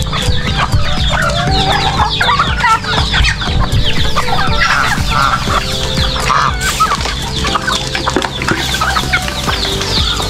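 A flock of chickens clucks continuously at close range, a dense loud chorus of overlapping clucks and cackles in a poultry house, with a crow-like call rising briefly among them.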